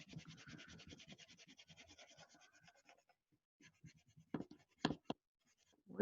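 A pen scratches steadily across paper in a Neurographica drawing, a close, quiet run of rhythmic strokes that pauses, then resumes with a few sharper, louder scratches.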